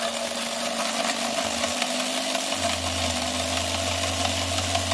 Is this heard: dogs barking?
no